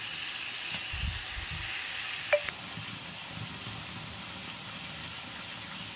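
Chicken malai tikka grills in a pan, giving a faint, even sizzle throughout with one brief metallic clink near the middle.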